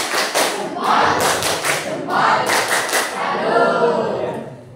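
A classroom of students claps out the tepuk jempol pattern in several rhythmic bursts of loud, close hand claps with thumps, and voices chant along between and under the claps.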